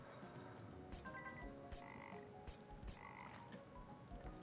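Frogs in the idle game Legends of Idleon croaking repeatedly in overlapping bursts, layered with soft game blips and background music.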